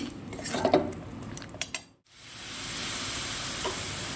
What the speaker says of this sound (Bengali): মশলা কষে নেব 10 থেকে 20 মিনিট